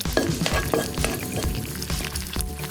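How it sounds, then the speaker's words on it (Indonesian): Smoked meat fries in a pan until the edges crisp golden, a close, steady sizzle with crackling pops and occasional stirring. "Masukkan daging asap ke penggorengan. Goreng sampai pinggirnya garing keemasan."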